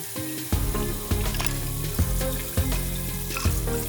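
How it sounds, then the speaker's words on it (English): Dishes being washed and rinsed in a kitchen sink, running water hissing steadily under repeated clinks and knocks of crockery at a close distance. "step one here was just to wash and rinse out all of the dishes that I'd set aside from earlier"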